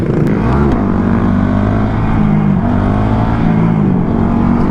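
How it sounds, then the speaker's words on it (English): A motorcycle held up on a wheelie on a road near gravel, its engine droning loud and close at steady high revs with slight pitch wavering throughout, no talking. "Bro, how is he keeping the wheelie up on?"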